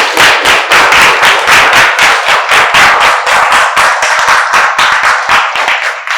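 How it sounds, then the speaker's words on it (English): An audience at a lecture applauds, a loud, dense run of close clapping that is steady throughout and carries no voices. "Once again, a round of applause,"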